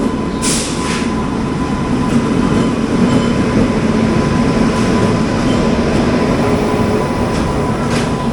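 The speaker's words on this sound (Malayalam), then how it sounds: "കൊണാർക്ക് എക്സ്പ്രസ് കയറി വരുന്നുണ്ട്" Mumbai CSMT–Bhubaneswar Konark Express pulls in as a steady, loud rumble of wheels on rails, with a faint clatter and a thin high tone throughout; no one speaks.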